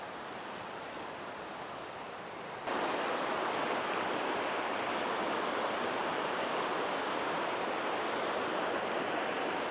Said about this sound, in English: There's a lot more river noise.